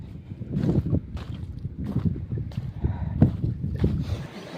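Wind blows outdoors on a hot, sunny day, buffeting the microphone in uneven gusts with a steady low rumble and no talking.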